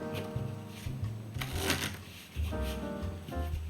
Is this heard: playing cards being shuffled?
yes